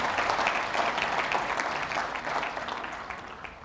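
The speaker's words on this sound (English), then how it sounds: "A big round of applause." Guests at a charity gala dinner applaud after an auction lot sells for £13,000, a brisk, even burst of many hands that gradually softens toward the end.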